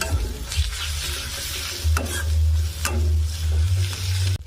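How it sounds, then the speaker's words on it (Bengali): Turmeric, ginger paste and garlic paste fry in oil while being stirred, a steady sizzle with a few distinct scraping strokes and low rumbling bubbling, close and alone. "হাফ চামচ হলুদ গুঁড়ো দিয়ে দেব, 1 চামচ আদা বাটা, 1 চামচ রসুন বাটা দিয়ে ভালোভাবে কষিয়ে নেব"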